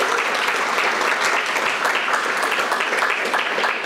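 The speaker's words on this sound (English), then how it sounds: "Please give them a big round of applause." Dense, steady applause from an audience at a community State of Elkridge address, sustained and fairly loud across the whole stretch with no break.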